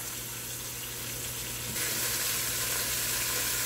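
Oxtail pieces sizzling in a frying pan while being stirred: a steady close hiss of frying that grows louder partway through, with no talking.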